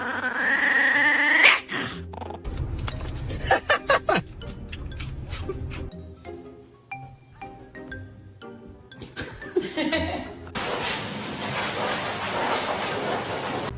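A dog yips, whimpers and gives a string of short barks, close and uneven, with a squeaky whine early on, a few quieter sounds between, and broadband noise near the end.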